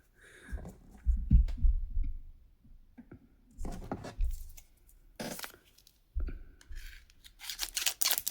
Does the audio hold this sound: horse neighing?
no